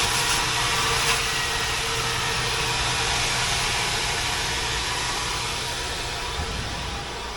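Steady loud whirring roar of a vacuum cleaner running continuously while a car is cleaned, unbroken and close with no voices.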